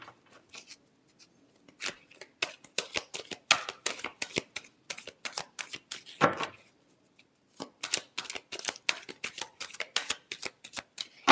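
Tarot cards shuffled by hand in rapid rhythmic riffles, crisp and close, with a short pause partway through and no talk.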